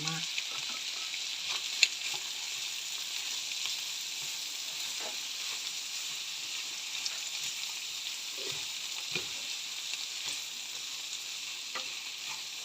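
Vegetables, carrot and apple frying with rice in a pan give a steady, fairly quiet sizzle, with occasional light stirring scrapes and soft taps throughout.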